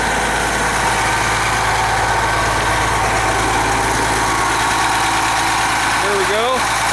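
A 1995 Blue Bird transit bus runs its 8.3-liter turbo Cummins diesel at idle with the hood open, a loud, steady low rumble and clatter heard up close, with brief high tones near the end.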